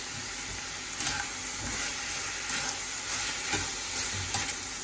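Curry leaves crackling in hot oil with browning onions in a pan, a continuous bright sizzle with repeated stirring scrapes and small pops spaced through it.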